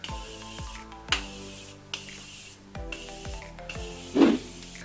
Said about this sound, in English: I'm giving myself another spritz of setting spray